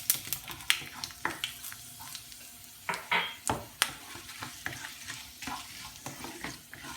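Dried red chilies and curry leaves sizzle and crackle steadily in oil with sharp pops and spits, close and fairly quiet, with no voices.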